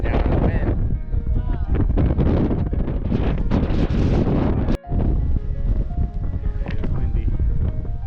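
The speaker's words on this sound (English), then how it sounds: "It's windy." Steady, heavy wind buffeting the microphone in loud, continuous gusts, with a brief dropout partway through; faint voices may sit underneath.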